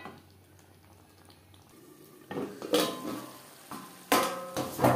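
Boiled potato and kohlrabi being stirred in a pan over high to medium flame, quiet at first, then a few loud scraping, clattering strokes of a spoon against the pan in short bursts, close by.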